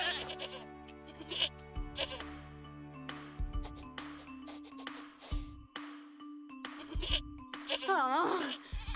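Goats bleat repeatedly in an animated cartoon scene, wavering cries rising over busy music and chimes while characters talk throughout.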